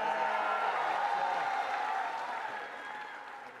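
Audience applause during a live singing and voice mimicry performance, a dense wash of clapping that holds steady and then gradually fades over a few seconds, with a faint tonal murmur underneath.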